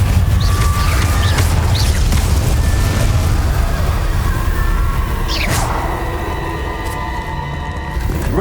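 An Incendio fire spell in Hogwarts Legacy bursts with a loud, dense roaring blast, thick and sustained, with brief bright whooshes and ringing spell tones over it, then eases slightly near the end.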